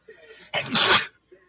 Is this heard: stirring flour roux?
no